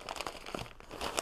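Plastic meal kit packaging from a Hello Fresh box being crumpled by hand into a small bundle, giving a dense, close crinkling with brief rustling bursts and no voices.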